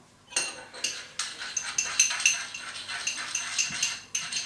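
Vegetables for an Asian-style stir-fry being mixed in a frying pan after deglazing with an acidic liquid: a run of close metallic scrapes and clinks of a utensil against the pan, steady and fairly loud.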